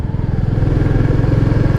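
A Royal Enfield Classic 350 motorcycle leans through a turn, its single-cylinder engine thumping in a loud, steady, rapid pulse close to the listener.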